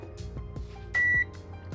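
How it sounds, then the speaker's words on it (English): A short electronic beep, steady and tonal, lasting about a quarter second amid faint clicks and light background noise. "I should get a beep on yellow."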